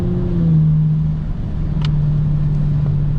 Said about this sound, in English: So as you can hear, this exhaust sounds really nice